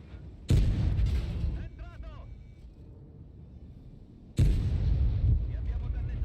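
Two heavy tank gun shots in World of Tanks, each a sudden loud boom followed by a rumbling decay, spaced a few seconds apart, with a brief voice murmuring in the quiet gap between them.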